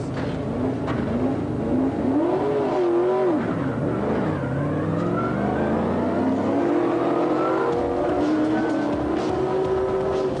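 Race car engines rev and roar continuously as several cars pull out of the pits, pitch rising and falling as they accelerate away, loud and close.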